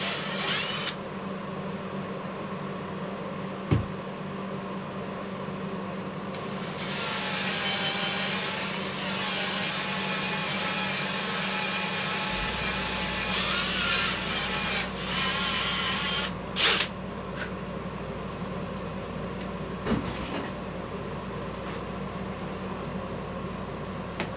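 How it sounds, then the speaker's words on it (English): A reamer tip grinding out a hole in a workshop, giving a steady close power-tool whir with a higher whine over the middle stretch and a few sharp clicks and knocks, with no talking. "What I wind up doing is using the tip of my reamer and just kind of grinding it out."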